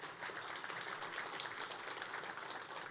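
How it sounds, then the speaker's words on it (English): Audience applause at a public safety introduction event, a continuous even patter of many people clapping, soft and somewhat distant, with no talking over it. "Give Miss Sandra a round of applause."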